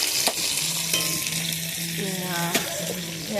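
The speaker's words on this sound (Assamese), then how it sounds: "মাছ ফ্ৰাই হৈ আছে দেই।" Fish frying in a hot pan, a steady close sizzle with stirring and clinks of a utensil, continuing without speech through the short stretch.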